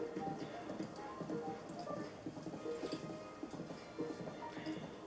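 Horse hooves clip-clopping at a steady riding pace in Zelda: Breath of the Wild, with a brisk, even rhythm running continuously under ambient game sounds and faint music.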